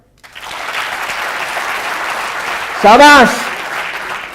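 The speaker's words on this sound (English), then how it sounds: "If you are sure 10 on 10, just clap for him." An audience at a talk claps steadily in a dense, sustained round of applause, while a voice briefly calls out an approving word over it near the end.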